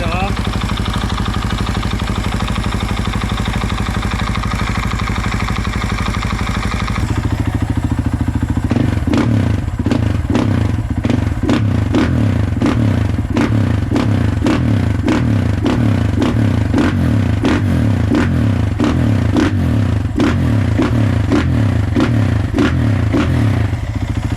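A Husaberg 450 FE four-stroke dirt bike engine idles roughly, then revs up into a loud, rapid, popping drone that continues steadily close by.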